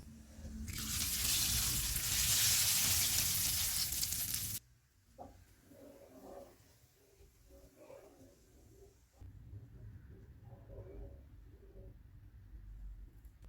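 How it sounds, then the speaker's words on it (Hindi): A loud burst of sizzling hisses for about four seconds as hot oil tempering is poured into cooked lentils, then fades to quiet kitchen clatter and faint background noise. "तड़का तैयार हो गया, इसे दाल में मिक्स कर लेते हैं।"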